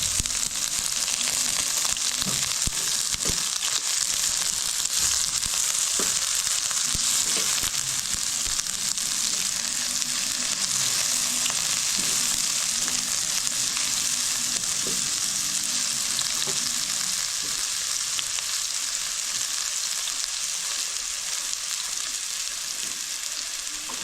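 Onions frying in a pan for spaghetti sauce give a loud, continuous sizzle that lasts throughout, broken by occasional scrapes and taps of stirring close by.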